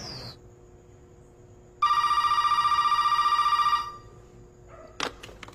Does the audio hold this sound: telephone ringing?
yes